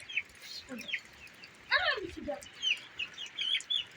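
Small chicks cheep in short high peeps, scattered and irregular, mixed with a few lower clucks, fairly close.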